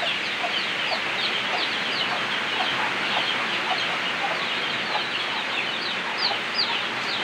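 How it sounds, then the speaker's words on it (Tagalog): A flock of farm chickens clucks continuously at a rural Philippine homestead, many overlapping short calls and chatters forming a busy, close chorus with no talk. "Mga manok."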